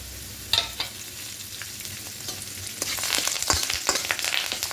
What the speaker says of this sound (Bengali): হালকা একটু ভেজে নিয়েছি এবার এখানে কারি পাতাগুলো দিয়ে দেবো